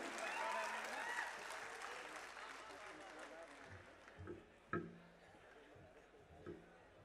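Applause at a mushaira poetry gathering rolls through the hall, strong at first then thinning out, with a few scattered claps and voices as it fades toward quiet.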